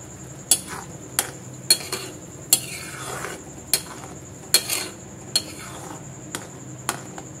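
A spoon stirring tomato gravy in a metal cooking pan, steady clinks against the pan roughly every second with soft scraping between strikes, close and clear.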